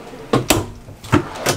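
RV bedroom drawers in a 2024 Grand Design Reflection 303RLS trailer open and shut with four close, sharp knocking thumps in two pairs, each a quick wooden bump.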